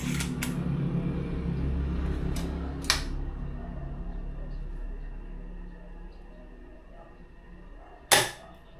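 A VSR-10 airsoft rifle fitted with a double bell silencer fires, producing a few muffled snaps over a low background hum, with one sharper, louder shot near the end.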